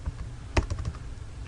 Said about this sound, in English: Now these commands I'm typing